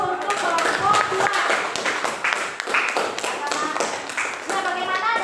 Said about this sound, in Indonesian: aplaus dulu untuk kelompok 2